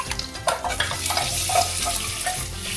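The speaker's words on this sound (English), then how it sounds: "Just fry the meat for 2 to 3 minutes." Nalli (lamb shank) meat frying in hot ghee inside a pressure cooker, a steady dense sizzle with stirring scrapes and occasional clinks of utensils, close and continuous throughout.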